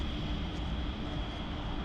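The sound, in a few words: small airplane engine in flight simulator video game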